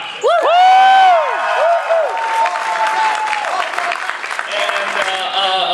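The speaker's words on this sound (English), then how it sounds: "Go ahead and applaud!" At a fan convention panel, the audience bursts into applause and cheering, with loud whoops and shouts rising early, then sustained clapping and crowd noise carrying on beneath scattered voices.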